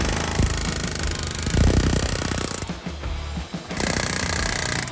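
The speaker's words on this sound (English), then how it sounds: "I just got this kind of big socket, 1/2 inch adapter on my air hammer, and we'll go ahead and try to hammer it in" A pneumatic air hammer fitted with a large socket on a 1/2 inch adapter drives a sway bar bushing on a Ford Econoline E-250, rattling loud and continuous up close, pausing briefly before resuming.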